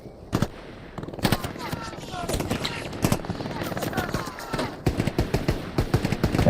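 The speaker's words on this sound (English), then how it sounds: "Let's see who's that firing with the MG." A machine gun fires in Hell Let Loose, sharp bursts of rapid shots at varying distance, some close and loud, others fainter, over a busy battlefield rumble.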